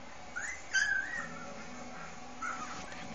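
Golden retriever puppies whimper and squeal in short, thin high cries, a few brief yelps rising over a quiet indoor background.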